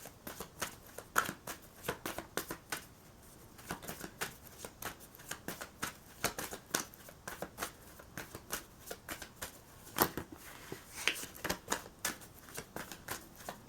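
Tarot cards riffled and shuffled by hand for a reading, a quick run of crisp, close flicking bursts that keep on steadily with no one talking.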